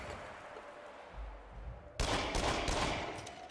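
Gunfire in the Until Dawn: Rush of Blood shooter game erupts as a sudden loud burst of rapid shots after a quieter low rumble, continuing in dense crackling volleys.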